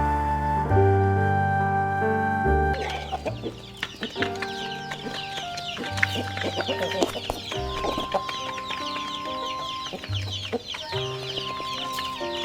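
A country hen caught in the morning clucks in short repeated calls, close and fairly clear, over steady background music.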